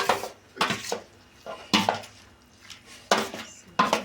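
Chicken biryani with garam masala being mixed in a pot, a spoon clanking and scraping against the metal in several distinct bursts at irregular intervals, close and fairly loud with no talking.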